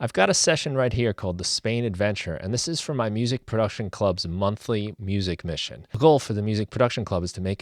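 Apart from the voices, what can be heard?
None of the usual background noises is heard.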